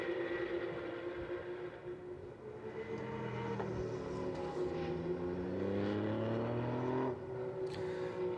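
GT endurance race cars lapping the Paul Ricard circuit, engines rising and falling in pitch as several cars pass through a left-hand corner, loud and continuous with overlapping revs and downshifts.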